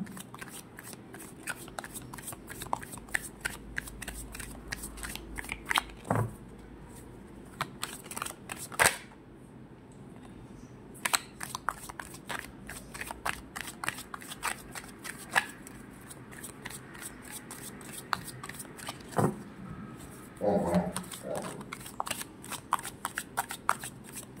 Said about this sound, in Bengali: ওকে, দুটো কার্ড পড়েছে, ঠিক আছে, আমি দুটো কার্ডই নেব।